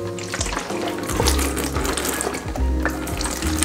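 Tap water runs and splashes while a resin printer's funnel and filter are rinsed, a close steady gush with brief clatters of plastic parts being handled.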